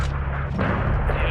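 Heavy gunfire from an AC-130 gunship in the video game Call of Duty: Modern Warfare 3, a dense, continuous roar of booming shots with a sharper burst midway and a faint voice in the mix.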